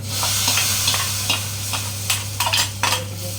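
Fried tempering masala is poured into Punjabi-style kadhi, giving a steady sizzle with a low hum beneath and scattered sharp scraping clinks of a spoon against the pot, no voices.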